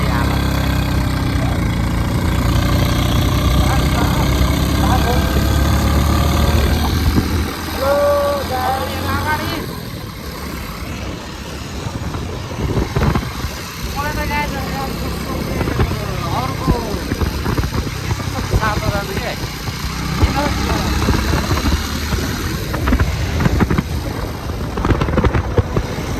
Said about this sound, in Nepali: अब तान्नु यो बाइक